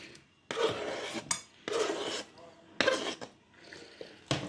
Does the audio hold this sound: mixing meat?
yes